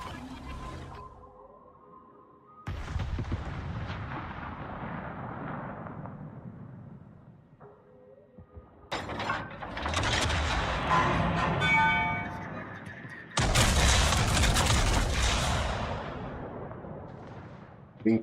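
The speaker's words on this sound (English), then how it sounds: "Wow, Bismarck guns." The Bismarck's main battery fires in World of Warships as a few heavy booming salvos with long rumbling tails, loud and close, separated by gaps that carry quieter game sounds.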